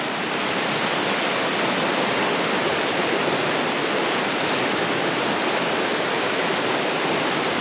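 A swollen meltwater stream after an avalanche rushes past nearby, a loud, unbroken broadband roar of churning water that holds steady throughout with no voices.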